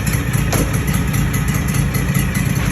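Aztec Sidewinder floor stripper used to strip VCT floors, its engine idling with a loud, steady, even throb and slight clatter, close and continuous.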